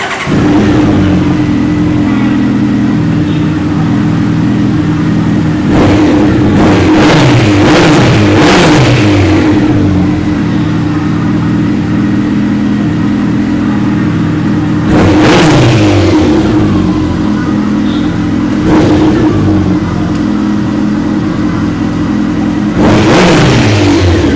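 A Honda CB1300 Super Four SP motorcycle idles with a loud, close, steady engine drone, punctuated by several sharp throttle revs, a quick cluster early and a few single blips later.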